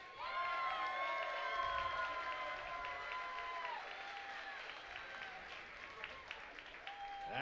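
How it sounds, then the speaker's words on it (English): Fight fans at a kickboxing event break into sustained applause and cheering, a dense roar of clapping that holds steady before slowly thinning, while a voice speaks over it. "a round of applause"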